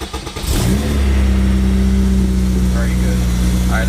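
A car engine, just fitted with a performance radiator, cranks and catches, then settles into a loud, steady running hum close by, with a voice briefly audible over it.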